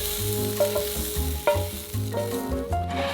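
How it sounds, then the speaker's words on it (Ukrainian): Steady close sizzle of food frying in sunflower oil until soft, a continuous crackling hiss with a few louder pops and stirring clinks, no voices. "Підсмажуємо на соняшниковій олії до м'якості"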